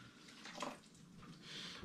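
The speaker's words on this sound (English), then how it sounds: "Then I'm going to top the whole thing up with spring water." Spring water pours from a 5-litre bottle into a brewing pot of malt for an all-grain rauchbier, a steady soft splashing gush that swells and settles, fairly quiet and close.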